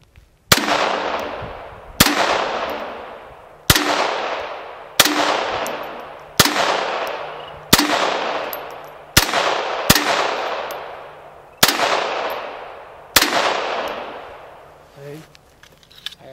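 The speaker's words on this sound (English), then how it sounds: "I'm going to shoot across the top and the bottom. And you put two in the top, two in the bottom." Gunshots fired in pairs during home self defense training, about nine loud sharp blasts at a steady pace, each trailing off in a long reverberant decay, up close and dominating the scene.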